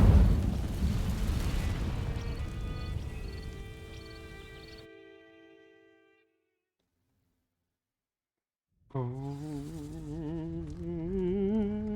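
An Incendio fire spell cast in Hogwarts Legacy bursts out as a loud roaring whoosh that fades over several seconds into silence, then game music and ambience resume.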